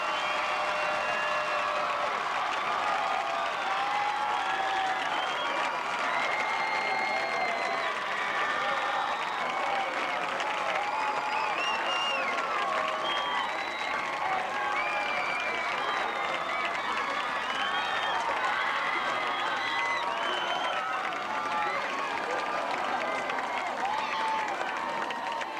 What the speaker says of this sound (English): crowd still going crazy for the Vikings